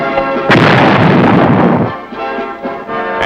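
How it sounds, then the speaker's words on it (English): A 105 mm howitzer fires in a single loud, close boom with a long rumbling tail, amid steady engine or generator drone on an artillery emplacement platform. "A 105 millimeter howitzer is brought in and positioned on the platform, providing a unique artillery emplacement"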